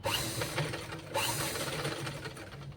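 A sewing machine stitches a katori blouse piece in two quick bursts of rapid mechanical ticking and whirring, close by and fairly quiet, with no speech.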